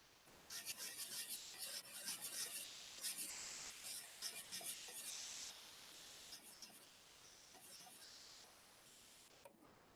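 Sandpaper rasps across a small pendant in quick, repeated back-and-forth strokes, a faint, close, hissing scrape that comes in bursts with short pauses between them.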